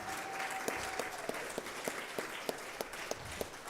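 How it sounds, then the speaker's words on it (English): Congregation applause for a ministerial search team at a Unity church service, heard as a soft, regular run of claps, fairly faint, with a voice speaking briefly over the start. "Could I get a round of applause for the ministerial search team?"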